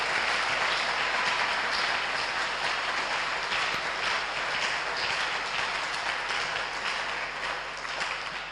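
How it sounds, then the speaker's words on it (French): A church convention audience applauds for a pastor, steady crowd clapping filling the space for several seconds and tapering slightly at the end. "On peut acclamer pour lui."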